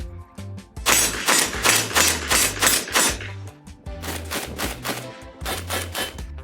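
Rapid series of loud shotgun blasts from an Orthos Arms Raider S4, a Benelli M4-style semi-automatic, firing birdshot and buckshot outdoors; about a dozen sharp reports in quick bursts with a short pause midway.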